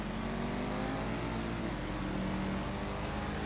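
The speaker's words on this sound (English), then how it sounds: "You guys see there, it's accelerating." Ubermacht Cypher, modeled on the BMW M2, accelerating in GTA Online, its engine holding a loud, continuous drone as the pitch climbs steadily, alone with no voices.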